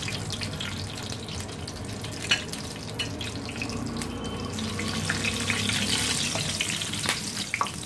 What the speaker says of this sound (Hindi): इसमें हम जो है हरी मिर्च शामिल करेंगे, इसको बिल्कुल हल्का सा फ्राई करेंगे